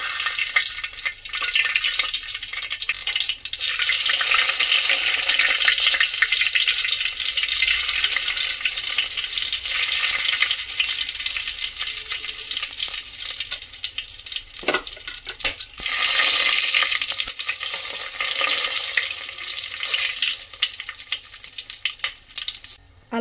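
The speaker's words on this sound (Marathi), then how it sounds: "तेल गरम झालंय, याच्यामध्ये आता आपल्याला खडे मसाले घालून घ्यायचे आहेत." Whole spices crackle and sizzle in hot oil, a loud continuous frying hiss with occasional stirring clatter, heard alone without speech.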